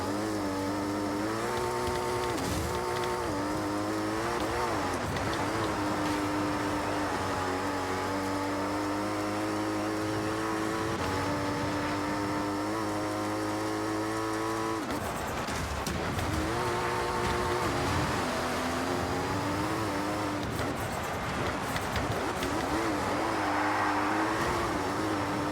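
A tuned car's engine in the Forza Horizon racing game revs hard and continuously, pitch rising and falling through gear changes, loud and close, with only a brief dip mid-way.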